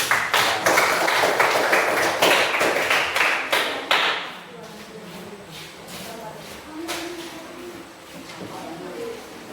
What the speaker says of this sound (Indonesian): Silakan kita beri aplaus lagi.